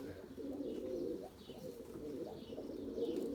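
Soft, low cooing of pigeons repeating over a faint outdoor background, fairly close and continuous.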